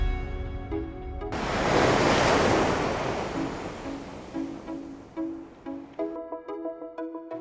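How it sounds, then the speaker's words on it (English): An aquarium surge machine moves seawater through a kelp tank: a steady rush of surging water swells loudly, then eases into a softer wash, with bright ringing tones sounding over it throughout. "a specially designed surge machine creates a constant water movement"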